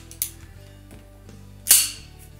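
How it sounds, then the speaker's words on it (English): Sig Sauer 1776 "We the People" blowback BB pistol, a 1911-style replica, fires two sharp cracks about a second and a half apart, the second louder, with quiet room tone between. "That is your typical 1911 sound."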